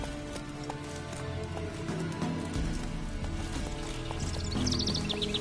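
Roach the horse gallops in The Witcher 3: Wild Hunt, a steady rapid clip-clop of hooves close by over a game music bed, with faint bird calls toward the end.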